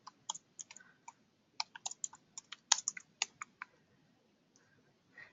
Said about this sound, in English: you type in the address of the property